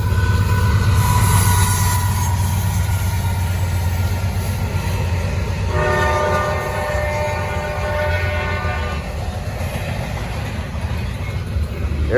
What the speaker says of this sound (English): Gotta get one daytime intermodal train